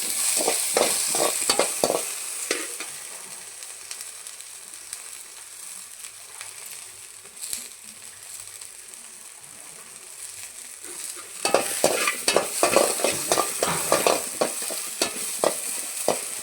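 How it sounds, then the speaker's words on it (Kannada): Okra frying in oil as a spoon stirs it, a continuous close sizzle broken by bursts of rapid scraping and clinking at the start and again near the end. "ಬೆಂಡೆಕಾಯಿ ಫ್ರೈ ಮಾಡ್ಕೊಂಡು ಸ್ವಲ್ಪ ಚೆನ್ನಾಗಿ ರೋಸ್ಟ್ ಆಗಬೇಕು ಬೆಂಡೆಕಾಯಿ"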